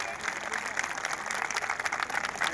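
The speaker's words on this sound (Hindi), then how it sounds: "एक बार जोरदार तालियां बजाइए इनके लिए" An audience claps in a steady, dense burst of applause at a public gathering, sustained throughout at moderate level with a faint crowd murmur beneath.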